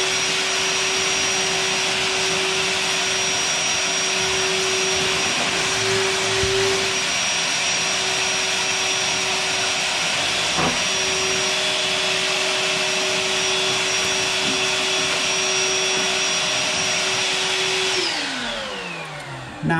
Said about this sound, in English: I just got a shop vac right here.